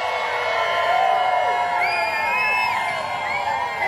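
A crowd at a Western heritage parade and cattle drive cheers and whoops outdoors, loud overlapping shouts and high calls rising and falling in a dense, lively roar.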